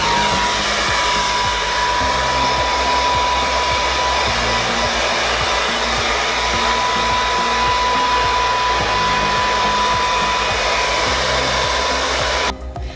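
A hair dryer on its hot setting blows as a loud, continuous roaring whoosh with a steady motor whine, uninterrupted for the whole stretch and cutting off at the very end.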